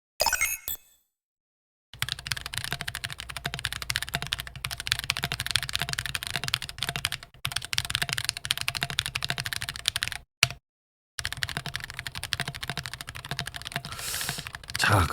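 A mechanical keyboard with stock, untuned stabilizers typed on in rapid bursts of close, clacky keystrokes with some rattle and scratchiness, broken by a few short silent gaps.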